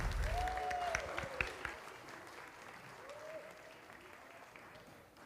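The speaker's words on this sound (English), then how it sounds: "One more round of applause for the Ipalook Elementary Dance Group." Audience applause for an elementary school dance group at a community festival, moderately loud at first and fading gradually, with a brief voice sound heard over it.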